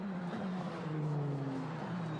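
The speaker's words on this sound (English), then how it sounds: "So as the cars come through" ADAC Formula 4 race cars at Spa-Francorchamps drone past at a distance, a steady engine whine with shifting pitch sweeps, fairly faint and continuous with no talk.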